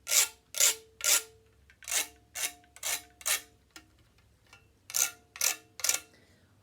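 Plastic spoon scraping across a homemade instrument, a series of rasping strokes in short bursts, three, then four, then three, quiet and close with no talk.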